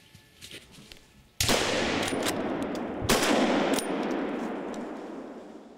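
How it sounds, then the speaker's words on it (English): Rifle shots fired at a wild boar during a hunt: two loud, sharp reports a couple of seconds apart, each followed by a long rolling echo through the outdoors. "so Jochen does the proper thing and shoots again"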